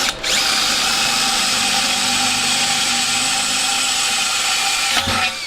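A power drill bites through a cracked alloy wheel during a repair, a loud steady high-pitched whine for about five seconds, close up, ending abruptly.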